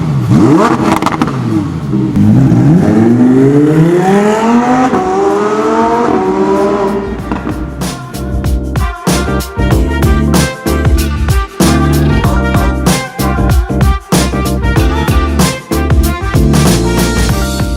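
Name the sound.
Lamborghini Huracan Performante stock exhaust revving before titanium exhaust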